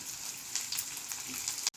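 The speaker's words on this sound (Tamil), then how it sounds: "கறிவேப்பிலை போட்டு நல்லா வதக்கிடுங்க." Curry leaves sautéing in hot oil for a green chilli sambar, a soft steady sizzle with faint crackles and stirring scrapes, quiet and close, ending with a sharp click.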